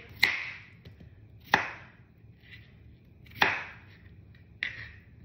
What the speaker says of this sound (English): All peeled, and now I'm gonna cut them up.